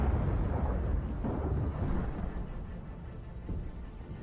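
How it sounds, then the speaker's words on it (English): Kornet anti-tank missile striking an armored APC, a loud deep rumbling blast whose roar stays heavy and sustained throughout, slowly easing toward the end, with no voices. "operator precisely guides the missile to the target"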